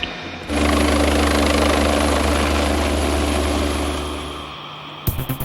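A police helicopter's rotor and engine roar steadily at close range, a loud continuous drone that fades slightly before cutting off.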